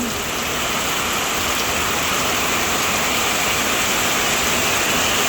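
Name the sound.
heavy rain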